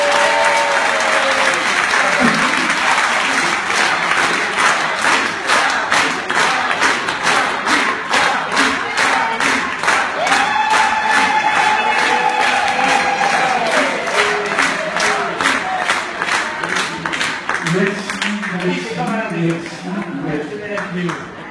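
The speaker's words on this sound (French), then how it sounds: "Et je vous demande vraiment de lui faire un tonnerre d'applaudissements," A one-man comedy show crowd gives a loud, sustained burst of applause with cheering and whoops, dense clapping filling the room while a voice briefly speaks over it near the end.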